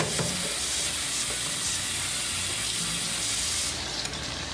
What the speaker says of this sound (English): We just get put in some water